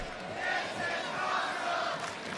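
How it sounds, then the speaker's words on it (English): A wrestling arena crowd roars and cheers in appreciation of a battered wrestler, a dense, sustained wall of voices swelling and holding throughout. "You can hear the respect and the appreciation of this crowd"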